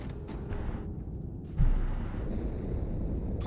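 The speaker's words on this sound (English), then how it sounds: "Die Explosion kam aus dem Innern der Athen, genau wie bei der Malta." An explosion in a Halo 2 cutscene: a deep, heavy boom hits suddenly midway, then rolls into a long rumbling wash of debris and low noise that stays loud without fading.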